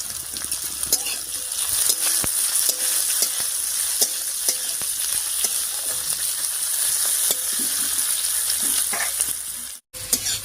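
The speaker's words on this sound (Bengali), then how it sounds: "পেঁয়াজ, রসুন, কাঁচা লঙ্কা হালকা ভাজা ভাজা হয়ে গেছে।" Chopped onion, crushed garlic and slit green chillies sizzle steadily in hot oil, with regular scrapes and taps of a spatula stirring the pan close by and no talking.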